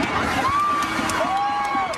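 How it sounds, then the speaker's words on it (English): A crowd cheers at a WNBA basketball game as a continuous roar of voices in an arena, with whoops and shouts rising over it and a few whistles running through it. "They're still cheering for the game."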